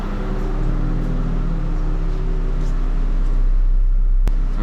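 Nissan 350Z/G35 engine idling while warming up, with both cooling fans running, a steady close rumble and whir holding level throughout, a brief sharp click near the end.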